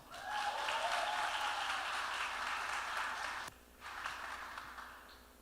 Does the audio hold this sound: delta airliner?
no